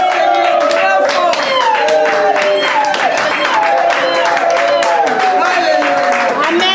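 A church congregation at an international convention claps rhythmically and cries out in acclamation, with loud sung or shouted voices over and among the steady, close hand claps the whole time.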